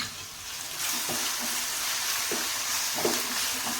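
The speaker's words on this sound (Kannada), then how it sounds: "ಇದು ಚೆನ್ನಾಗಿ ಹಸಿ ಸ್ಮೆಲ್ ಹೋಗೋ ತನಕ ನಾವು ಫ್ರೈ ಮಾಡಬೇಕು" Green chili and mint paste fries in oil in a pan for pudina avalakki, a steady broadband sizzle with a few soft stirring scrapes, close and continuous.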